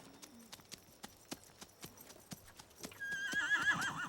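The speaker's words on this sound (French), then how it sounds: "Tu l'entends hennir?" Cartoon hooves clip-clop at an even trot, soft and regular, before a horse neighs in a bright, wavering whinny at the end.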